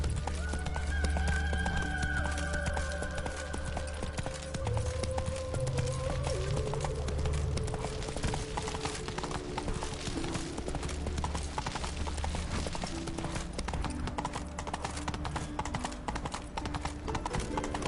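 Roach, Geralt's horse in The Witcher video game, gallops with steady, fast clip-clop hoofbeats running the whole time, joined by a brief neigh near the start over game music.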